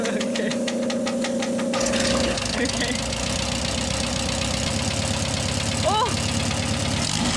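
A van engine idles with a steady, slightly knocking mid-pitched hum, close and continuous throughout while people talk briefly over it.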